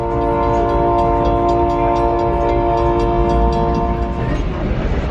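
An old ghost town train rides the rails near Ely, Nevada, its horn sounding as a loud, sustained multi-tone chord over a steady rumble of the cars on the track, with the horn dropping away near the end.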